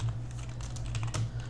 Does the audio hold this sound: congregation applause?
no